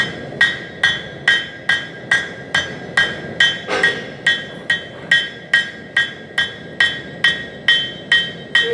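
A hammer strikes hot bronze on an anvil while forging a flower at a blacksmithing demonstration, a loud, ringing blow repeated about twice per second in a steady rhythm.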